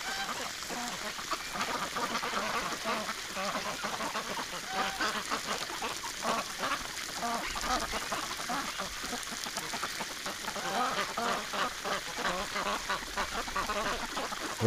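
Wintering ducks and geese gather in a snowy garden, their quacks faint and scattered within a constant broadband hiss of wind or spray.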